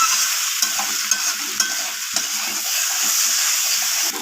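Potatoes for aloo dum sauté in oil in a pan, with a constant bright sizzle and repeated spatula scrapes and taps every half second or so, loud and close, no talking.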